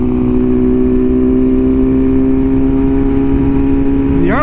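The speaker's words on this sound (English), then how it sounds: "Quick shifter. Oh, it's nice. Oh, the downshifts." A BMW S1000RR motorcycle running steadily up close with a constant engine drone, then a quick rising blip near the end as it shifts with the quick shifter.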